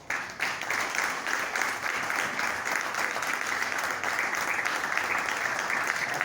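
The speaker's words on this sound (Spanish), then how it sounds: "Den un aplauso al Señor." A church congregation at a Sunday evening service applauds together, a sustained dense wash of clapping that holds steady throughout with no speech over it.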